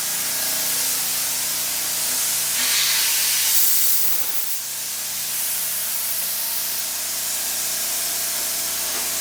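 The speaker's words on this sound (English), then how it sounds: "compressor's on, it's loud. Plugged it in, maybe. We're having some hose leakage." A steady, loud hiss of air escaping from a leaking air compressor hose in a garage, continuous throughout with a slight swell in the middle and no talking.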